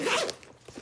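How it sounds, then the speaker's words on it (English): A pouch on an adventure motorcycle tank bag zipped shut in one quick close rasp, followed by faint handling noise, no talking. "Zip that up."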